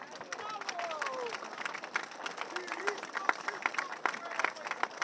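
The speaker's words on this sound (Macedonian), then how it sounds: "Аплауз уште еднаш." Theatre audience applauding, a dense patter of many hands clapping at moderate distance with scattered voices and cheers mixed into the crowd noise.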